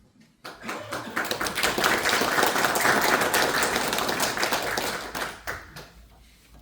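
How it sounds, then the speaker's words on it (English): Meeting attendees at a Lamar County, Georgia commission meeting break into steady applause after a short pause, sustained clapping from a room of people that tapers off near the end. "So he definitely deserves a round of applause for the work that he did."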